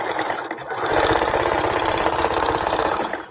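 A sewing machine runs steadily, stitching flat along the edge of a handmade overnight bag, its rapid mechanical chatter close and continuous with no talking.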